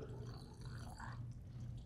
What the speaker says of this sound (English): when you fill it, you end up getting water pouring out on the floor